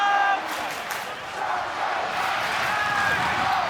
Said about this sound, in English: The crowd is right into this.